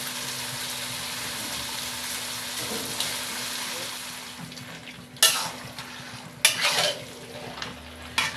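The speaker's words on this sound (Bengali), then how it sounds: "এবার অল্প অল্প করে মটনগুলোকে আমি দিয়ে দেব।" Marinated mutton pieces are added to hot masala in a pan, where a steady sizzle runs underneath and two sharp bursts of louder frying and scraping mark the meat going in.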